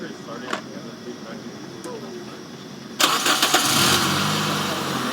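Car engine cranked over and catching, a sudden loud broadband burst a few seconds in that settles into a steady running roar, with people talking in the garage during a vacuum-gauge check beforehand.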